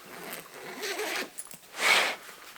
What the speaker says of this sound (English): Open this up. You have a zipper portion here